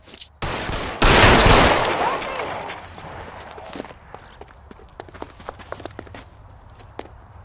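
Gunfire in L.A. Noire comes as a loud, close volley of shots that cuts in sharply and fades into scattered footsteps and small clatters.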